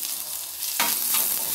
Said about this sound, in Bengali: কড়াইয়ে তেলটা গরম হয়েছে, এতে আমি দিয়ে দেবো রসুনটা।